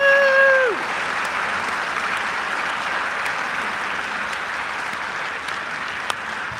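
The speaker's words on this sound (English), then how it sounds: "Would you please give them a round of applause?" An audience at a Do-It-Yourself Messiah performance in Chicago applauds the soprano and countertenor soloists and musicians. The applause is loud, dense and sustained for several seconds, with a brief voice at the very start.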